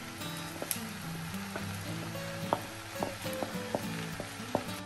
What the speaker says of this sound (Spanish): Una vez que tenemos el huevo hecho, vamos con el momento más esperado. Vamos a ponerle el arroz. Le echamos todo el arroz.